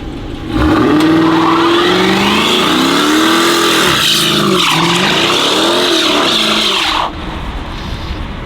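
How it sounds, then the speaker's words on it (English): A Dodge SRT Jeep revs hard and spins its tires, burning rubber, with a loud, continuous engine roar and tire squeal that rises and falls in pitch for several seconds before cutting back abruptly. "Man, burn the rubber out those things."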